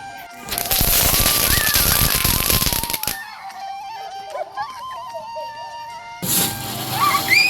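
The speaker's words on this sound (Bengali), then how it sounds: "এরা সব বাজি ফাটাচ্ছিল দেখো" Firecrackers burst at a family birthday party for a daughter, giving a loud crackling rattle that fills the first three seconds. A quieter stretch with a few birdlike chirps and faint voices follows, then another burst of crackling at the end.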